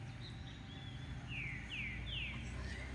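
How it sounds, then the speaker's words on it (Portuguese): Small birds chirp faintly in trees in Brazil in spring, a few short, quick descending tweets in the middle, distant and quiet over a steady low background hum. "Muito passarinho aqui"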